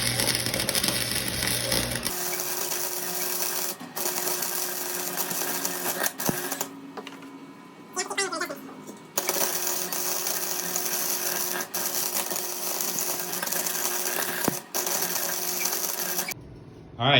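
Flux-core welder laying practice beads on bare metal, a loud continuous crackling buzz in long runs broken by short pauses between passes, close by with no talk.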